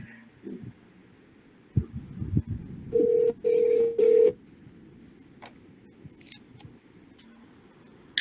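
Telephone ringback tones on a surprise phone call, three short steady beeps in a row, fairly loud over a quiet background with a few soft clicks.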